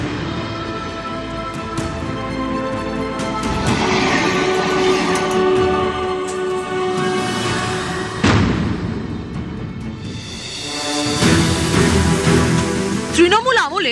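A train on the double-track Naihati–Lalgola main line rumbles past close by and loud, wheels clattering. Horn blasts sound over the continuous roar, and it swells again near the end.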